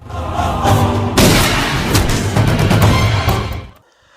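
Film gunshots ring out as loud, heavy booms and cracks layered over a dense dramatic soundtrack, fading out sharply at the end.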